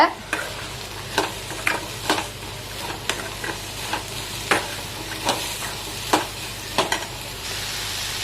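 Green peas stir-fried in a pan for sundal, with a steady background sizzle and a series of sharp scraping stir strokes about once a second, heard close with no voices.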